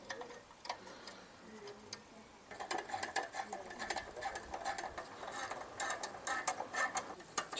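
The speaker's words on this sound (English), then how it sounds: "Just carrying out final tightening to these bolts." Exhaust bolts being tightened on a 2008 Smart Fortwo 451 during exhaust refitting, heard as a steady run of quick, faint ratcheting ticks with a speaking voice faintly in the background.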